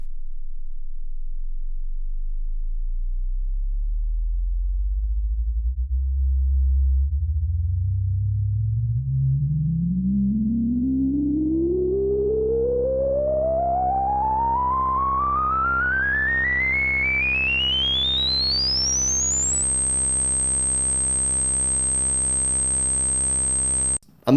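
A Prophet 5 Rev4 synthesizer plays a loud, steady sine tone that sweeps upward from a deep bass rumble to a piercing high whistle over about twenty seconds, with audible stepping, then holds the top pitch and cuts off abruptly.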